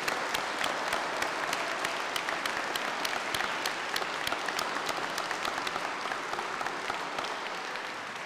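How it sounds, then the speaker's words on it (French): A congregation applauds musicians at a church service in a temple, a steady patter of many hands clapping at a moderate distance, continuous and even, gradually easing toward the end. "On peut les applaudir."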